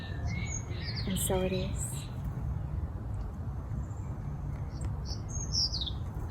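Birds chirping outdoors: a cluster of sharp tweets early on and more calls near the end, over a constant low background rumble, with a short spoken phrase at the start.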